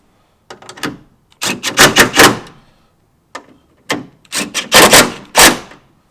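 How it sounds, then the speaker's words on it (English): A wrench ratchets while tightening a Toyota Tacoma TRD Pro tail light during installation, heard as two close, crisp bursts of rapid clicking separated by a short pause. "Take our wrench."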